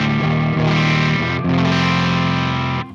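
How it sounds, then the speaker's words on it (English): Electric guitar played through a Jazz Chorus amp model in the STL Tonality plugin: loud, sustained chords with a few quick re-strikes, ringing continuously for about three seconds before cutting off, no talking. "Let's go to now, for example, the jazz chorus."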